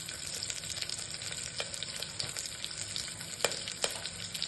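Onion and curry leaves fry for idli sambar with a dense, continuous sizzle, a few sharper crackles and stirring scrapes rising above the steady hiss.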